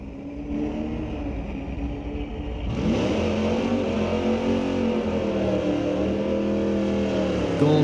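G-body Buick wagon launching down the drag strip at Mission Raceway Park, engine idling before a sudden loud surge and sustained rising roar through the gears, with no talk.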